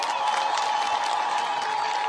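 An audience at a public speech on road projects in Kenya breaks into applause, a brief dense wash of many hands clapping at once, steady and fairly loud for about two seconds.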